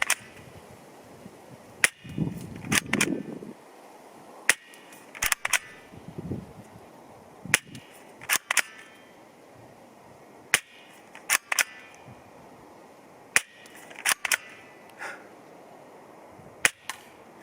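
Sharp, isolated single shots from a Samopal vz.61 Scorpion (Double Eagle) at a 10 m accuracy range, spaced irregularly over the clip with a few quick doubles, fairly faint and crisp with quiet pauses between.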